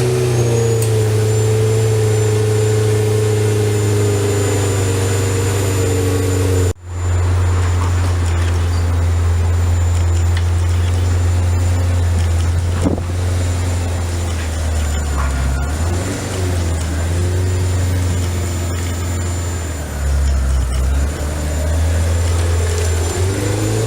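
A 1995 Ferrari 348 Spider engine drones loudly and steadily from inside the car while driving, with a brief dip and shifting revs as it accelerates and eases off.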